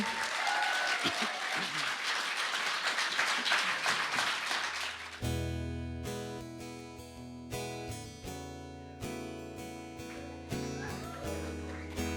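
A club audience gives a dense, sustained round of applause for a performer at a live comedy-music night, lasting about five seconds before giving way to loud recorded music.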